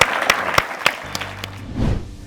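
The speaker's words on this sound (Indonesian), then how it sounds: "Tepuk tangan dong buat Mas Sabar Gorky." A studio audience at a television talk show gives a short round of applause: a handful of distinct, separate claps, then a soft murmuring fade.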